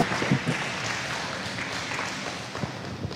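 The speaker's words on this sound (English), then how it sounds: "Let's hear a good loud applause for the Bella." A crowd applauding steadily, a dense wash of clapping with a few cheers near the start, fading slightly toward the end.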